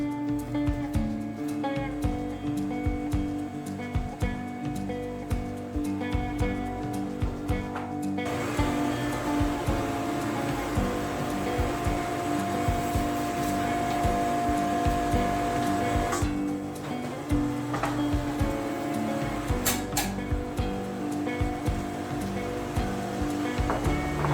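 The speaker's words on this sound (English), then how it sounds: "the very first board in through the planer, it was already clogging the vacuum system" A wood planer fed with sawmill lumber runs in a workshop alongside a dust vacuum system, giving a steady loud mechanical roar with rattling and clattering, a sharper whine rising as a board passes through and later easing.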